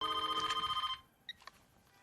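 A telephone bell rings loudly in a steady, rapid trill for about a second, then cuts off, leaving a quiet room with a couple of faint clicks.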